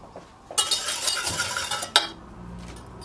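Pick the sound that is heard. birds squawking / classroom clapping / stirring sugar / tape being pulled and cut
stirring sugar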